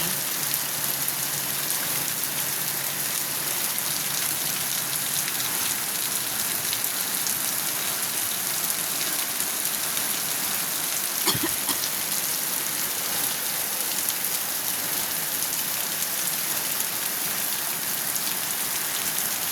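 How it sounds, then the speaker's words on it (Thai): Steady rain falls, an even hiss of drops on surfaces that continues throughout at moderate level, with one short sharp knock partway through and no talk. "ฝนตกแล้วค่ะ"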